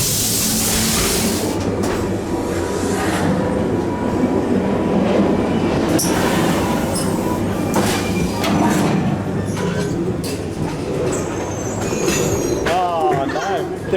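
Ghost Train ride cars at Blackpool Pleasure Beach rumble along the rails with clattering wheels and a squeal near the end, while people talk over the noise.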